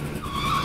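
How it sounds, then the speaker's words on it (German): Moped braking hard on a test ride, tires skidding with a rising squeal over a steady engine roar, loud and close for a brief moment. "wir müssen auch die Bremse testen"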